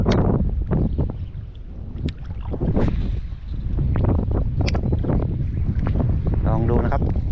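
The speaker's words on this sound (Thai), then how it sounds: "วันนี้ลมค่อนข้างแรงนะครับพายุเข้านะครับ" Strong storm wind on a shoreline during bass fishing, with rain about, buffets the microphone in loud, rough gusts that run continuously while someone talks through it.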